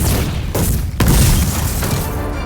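A deep booming explosion hits about a second in, followed by a rumbling roar and debris-like noise, loud and dense throughout.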